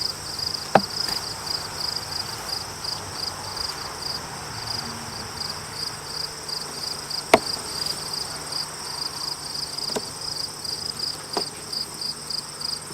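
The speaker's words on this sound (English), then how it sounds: "all of these bees that are on these frames will end up going right back to this hive" Honey bees hum steadily around open hive frames in a backyard apiary during an inspection, a constant insect drone with a few faint clicks and bumps, no talking.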